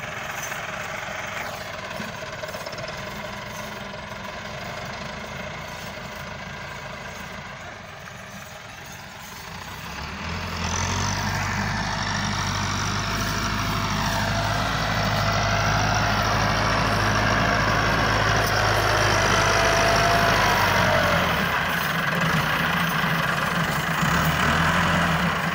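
A tractor engine drones through the whole stretch of field work, growing louder and deeper partway in as the machine comes closer or works harder.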